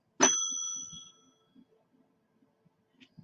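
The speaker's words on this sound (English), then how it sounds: "Okay, I'll do the bell." A small, adorable hand bell rings once with a clear bright strike that decays over about a second, then soft scattered handling noises in a quiet room.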